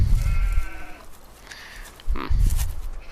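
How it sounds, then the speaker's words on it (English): Sheep bleating in Farming Simulator 17, two short bleats close by, one at the start and another near the end, with quiet ambience in between. "Hello, sheep."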